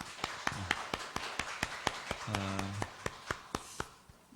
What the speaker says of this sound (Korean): 우리 감사의 박수 한번 이렇게 드리겠습니다.